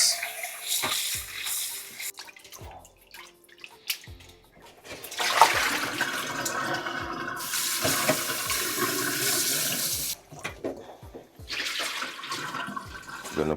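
Raw chicken pieces rinsed under a running tap, a steady rush of water splashing into a sink with shifting intensity and occasional clunks as the pieces are handled, close and fairly loud throughout.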